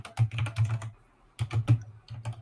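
A clicky computer keyboard clatters in quick bursts of keystrokes, with a short pause in the middle before the typing picks up again, fairly faint and with no talking over it.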